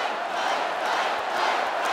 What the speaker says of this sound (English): The crowd chanted, "Fight,"